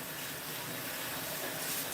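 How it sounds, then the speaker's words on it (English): Tap water runs steadily into a kitchen sink, a close, even hiss with no pauses. "I'm just running the water."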